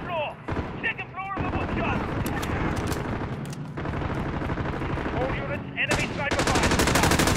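Sustained gunfire fills a Call of Duty: Modern Warfare firefight, loud bursts of automatic weapons and rapid shots running almost continuously, with a player's voice talking over the battle and sharp weapon-handling clicks breaking through near the end.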